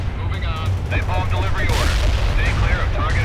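Explosive battlefield rumble from a napalm fire support strike in the real-time strategy game World in Conflict, with a steady low roar, booming bursts and crackling fire under game voice chatter and radio talk.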